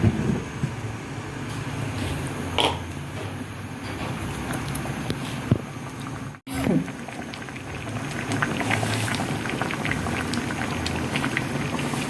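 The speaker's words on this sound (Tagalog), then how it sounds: "pakuluan muna natin" A pot of gata dish seasoned with salt and pepper bubbles steadily on the stove, a continuous close simmering hiss and gurgle with a soft clank partway through.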